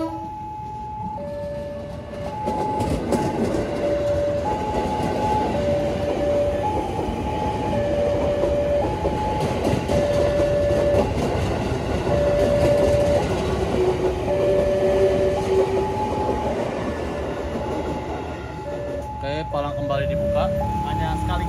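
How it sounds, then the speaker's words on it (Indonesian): At a Jakarta level crossing, an airport train and a commuter train rumble past while a repeating two-tone crossing warning chimes steadily over the continuous rail noise, loud and near. "Kereta bandara dan komuter lain nih."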